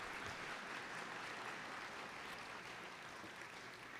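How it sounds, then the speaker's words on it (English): Audience applause fills a graduate awards ceremony hall, a steady, dense wash of many hands clapping that stays fairly faint and even throughout, with no voices over it. "a round of applause."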